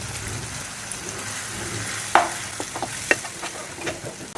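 Onion paste frying in a pan for an egg korma, stirred with a few scraping clicks over a steady soft sizzle, close and moderately loud with no talking.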